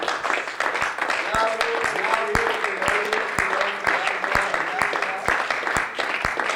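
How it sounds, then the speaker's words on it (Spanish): Congregation clapping together in a church service, steady rhythmic claps repeated through the clip with music or voices continuing underneath. "démosle un aplauso a nuestro Dios"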